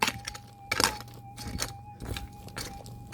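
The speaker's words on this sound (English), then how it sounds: "The sound I'm talking about is the sound of steel hitting quartz." A steel pick striking quartz rock specimens while prospecting for gold, giving several sharp clinks and cracks at irregular intervals over a faint steady tonal hum, close and moderately loud, with no speech.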